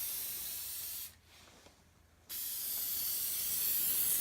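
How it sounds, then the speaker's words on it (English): Aerosol spray can sprayed onto the foam lining of a contrabass clarinet case, two close, steady hissing bursts separated by a brief pause, the second longer and growing slightly stronger. "And I spray right on top."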